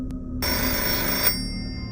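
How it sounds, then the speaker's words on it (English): A telephone bell rings loudly in one sustained burst, then cuts off, leaving a faint electronic hum behind. "That night, the phone starts ringing."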